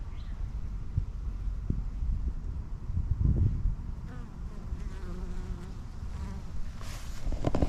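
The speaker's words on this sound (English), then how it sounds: "they're just in here doing what bees do" Italian hybrid honey bees buzz close around their hive, a dense continuous drone broken by brief louder passes near the microphone, with light wind in the background.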